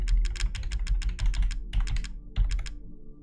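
Rapid clattering keystrokes on a computer keyboard while playing Resident Evil Village, in quick bursts with a couple of brief pauses, close and clear with no talking.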